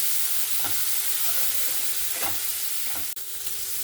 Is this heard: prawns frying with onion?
yes